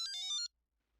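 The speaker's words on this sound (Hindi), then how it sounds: "किसका फोन आ गया?" A bright electronic phone ringtone plays a quick run of high melodic notes for about half a second, close and clear, then stops abruptly into silence.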